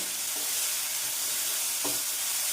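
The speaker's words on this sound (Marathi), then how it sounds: "हे एकच मिनिट हाय फ्लेमवर परतून घ्यायचे" Mixed vegetables stir-fried on high flame for hotel-style fried rice, a loud continuous sizzle and hiss with a couple of brief stirring scrapes, close up and free of talk.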